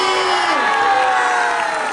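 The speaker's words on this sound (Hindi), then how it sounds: "आपने जोरदार तालियां बजानी है" A church congregation clapping and cheering loudly at a thanksgiving blessing, a dense continuous roar of applause with shouts and whoops that fills the whole moment.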